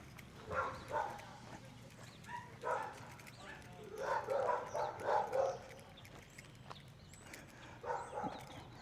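Dogs bark in short bursts at a grooming and boarding business in a small southern Illinois coal-mining town, several barks clustered together at moderate distance amid outdoor background noise.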